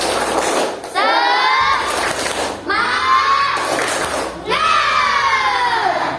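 A class of children do a rhythmic clapping chant, chanting and shouting together in loud rhythmic bursts, three energetic rounds separated by short pauses.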